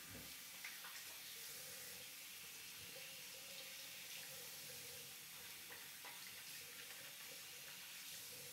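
Tap water running steadily into a sink while hands are rinsed of shaving soap lather, a faint, even hiss throughout.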